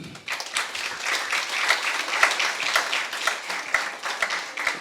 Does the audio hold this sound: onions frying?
no